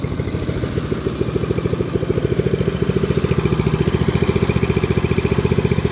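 A snow blower's small engine runs loudly and close after being restarted, a steady fast chugging putter with a rattly edge that settles into an even rhythm, with no talking.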